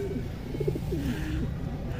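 Racing pigeons coo softly in a series of short, throaty calls over a steady low background rumble, with no other sounds standing out.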